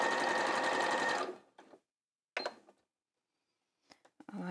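Sewing machine stitching fabric over pins while making a tunic, with a loud, steady run of rapid stitching that stops after a second, followed by brief clicks and handling noises and a short restart near the end.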